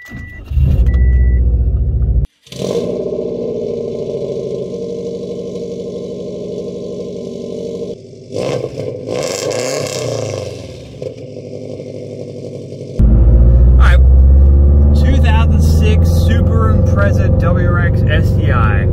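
A 2006 Subaru WRX STI cold-starts with a loud crank and catch, then settles into a steady rough idle, the revs dropping and rising again with a burst of deep engine roar near the end; someone talks at points.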